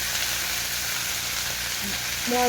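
Shredded cabbage goes into a pan of hot oil with fried cumin, giving a steady, close sizzle that hisses on throughout.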